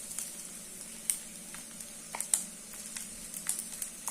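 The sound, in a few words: ground coconut paste added to sizzling kolukattai in pan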